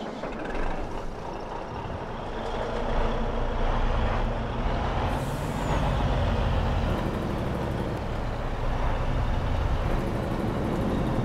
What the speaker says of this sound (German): LKW.